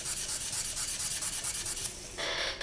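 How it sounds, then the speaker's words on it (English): Close, rhythmic sanding of a small polymer clay piece: quick back-and-forth abrasive strokes rasp against its surface, then a steadier, brighter scrubbing at the end. "So I'm going to sand the front, sides and the back"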